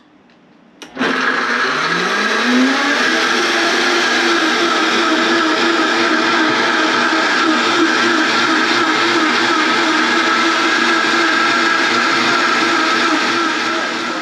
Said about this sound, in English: So I'm just going to blend this up.